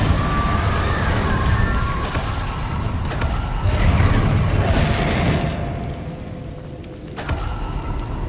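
Incendio fire spell cast in Hogwarts Legacy, a sustained roaring, whooshing blast of flame with rumbling booms, loud and continuous, fading slightly toward the end before another burst.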